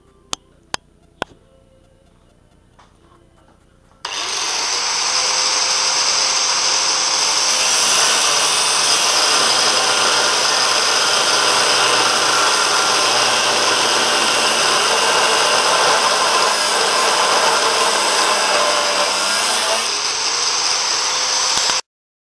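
A few sharp clicks and taps in near-silence give way to a loud, steady whine of a power tool cutting off excess steel on a homemade sheet-metal brake, running continuously for most of the clip before cutting out.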